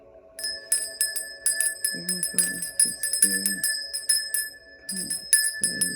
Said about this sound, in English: let's cleanse this space, okay? I'm gonna ring this bell.